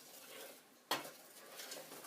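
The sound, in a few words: stirring melting butter in a pot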